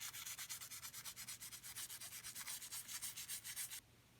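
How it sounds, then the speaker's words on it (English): Rapid back-and-forth brushing scrubs carbon off the crown of piston number 5 from a 2010 Ford Taurus SHO, a close, quiet rhythmic scratching of about five strokes per second that stops abruptly near the end, with no talk. "it was just very short brushing"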